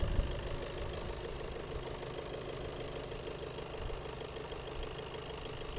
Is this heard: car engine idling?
yes